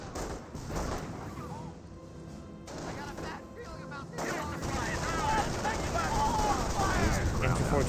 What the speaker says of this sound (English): MG42 gets a good burst there.